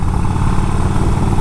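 A motorcycle engine idles close by with a steady, loud low rumble that holds constant through the short stretch, with no voices over it.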